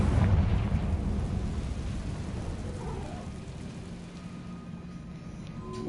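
A Confringo spell explosion in Hogwarts Legacy: a heavy, low rumbling blast that starts loud and decays into a long, crackling, rain-like roar that slowly fades over several seconds, with no voices.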